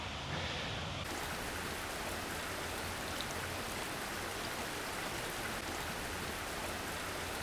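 Heavy early monsoon rain pours down steadily in Delhi, a dense, even hiss of drops close by, filling the whole stretch without pause, heard from shelter beneath a tree.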